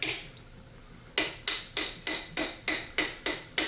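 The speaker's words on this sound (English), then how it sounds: "you always have your non-marring hammer to bump it into place" A non-marring hammer taps a part into place while reassembling a Marlin 336 rifle: nine sharp, evenly spaced knocks, close and loud, after a quieter opening.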